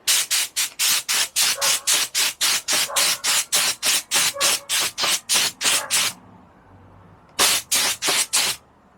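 A spray paint can hisses onto a damaged salvage car in a long run of short, regular bursts, then falls quiet briefly before a few more sprays close up.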